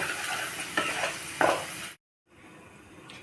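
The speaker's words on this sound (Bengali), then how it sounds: "দিয়ে ভালো করে নেড়ে নেব দিয়ে কষতে থাকব" Sugar being stirred and sautéed in a pan for a rasgulla curry, a steady broadband sizzle with a few sharp scraping strokes of the spoon, then a brief gap before the frying resumes more quietly.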